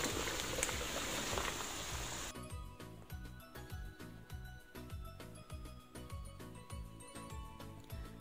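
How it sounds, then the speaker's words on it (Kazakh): Onions and bell peppers fry in a pan for a Kazakh lecho salad, giving a steady sizzle with rhythmic bubbling pops and crackles, loud and close, with no talk. "Пиязды жақсылап 10 минут қуырғаннан кейін болгар бұрыштарын саламыз."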